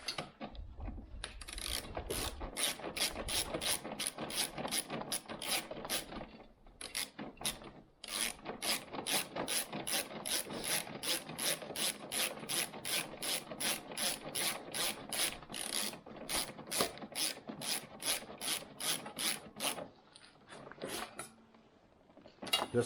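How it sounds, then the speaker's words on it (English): Rapid steady ratcheting clicks as the MBRP exhaust can on a Ski-Doo 850 snowmobile is tightened down, a long close run of even strokes with brief pauses. "Then I can tighten the can down."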